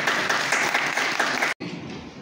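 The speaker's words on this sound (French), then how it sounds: "Que je vous demande d'applaudir, mesdames et messieurs." Audience at a training workshop on human trafficking breaks into loud, even applause that cuts off abruptly, then resumes more quietly after a brief gap.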